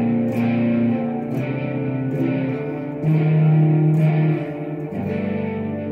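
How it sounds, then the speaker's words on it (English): Heavily distorted electric guitar strumming sustained shoegaze sus2 chords, each ringing out with washy reverb before the next change, about four strums over several seconds. "an atmosphere of sus2 chords, giving you kind of an ambient, dreamy quality for a shoegaze sound"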